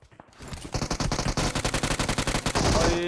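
Rapid bursts of automatic gunfire from a PUBG Mobile battle royale match, a near, loud stream of shots with a steady rhythm that starts after a short quiet lead-in and carries on to the end with no talking.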